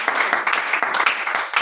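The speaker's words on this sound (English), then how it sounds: "Please give a round of applause for Lagos State." Brisk applause from a crowd at a Lagos State youth organization event, a steady patter of many hands clapping close by throughout.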